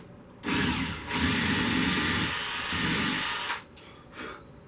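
A power drill bores a shallow quarter-inch center hole into a spalted pecan blank, a loud steady whir lasting about three seconds with a brief change in load midway, then stopping, followed by a short second burst.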